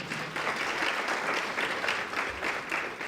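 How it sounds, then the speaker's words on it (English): Audience applause, a short burst of dense, even clapping from a crowd, steady in loudness from start to finish with no voices over it. "Another round of applause for them."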